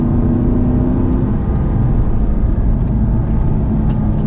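A manual-gearbox Aston Martin V8 Vantage drives along, its engine giving a steady, loud droning rumble with road noise and no clear revving changes.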